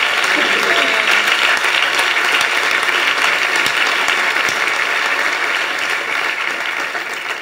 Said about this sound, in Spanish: Dale un aplauso al Señor esta tarde.